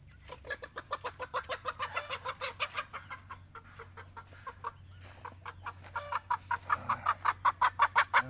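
Golden buff chickens about two and a half months old give rapid runs of clucks close by in a free-range pen, rhythmic bursts that fade in the middle and then come back louder and faster.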